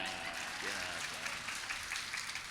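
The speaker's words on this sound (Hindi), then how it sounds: "अब बजाओ तालियां।" An audience at a spiritual discourse by Acharya Pulak Sagar Ji Maharaj breaks into applause, a soft, dense wash of many hands clapping heard faintly and at a distance, with some murmur mixed in.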